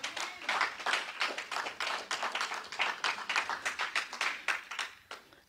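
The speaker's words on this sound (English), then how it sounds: "Somebody clap for Jesus." A church congregation claps together in a steady, dense rhythm, the hand claps close and bright for several seconds during a worship service.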